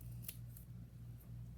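Scissors snip through fabric and paper for a small sewing and quilting piece, several faint, quick cuts over a low steady hum in a quiet studio.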